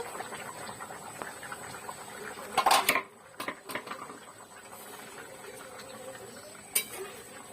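A lid clatters onto a metal pot of simmering chicken curry, giving a sharp clank or two over the soft bubbling, followed by a few lighter knocks.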